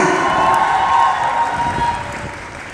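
Audience applause and cheering at a college fresher's party, a steady crowd roar of clapping and shouts sustained throughout and fading slightly at the end.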